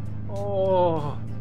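A 150-horsepower Chrysler Valiant Charger in Car Mechanic Simulator 2018, apparently faulty and barely pulling, revs briefly with a rising, wavering engine tone over a steady low hum, then fades back.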